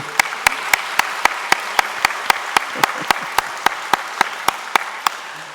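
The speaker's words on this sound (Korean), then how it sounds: "솔리스트들에게 한 번 더 박수를" A church congregation at a Sunday worship service applauds the soloists with steady, evenly spaced claps, sharp and regular across the whole stretch, over a soft wash of room noise.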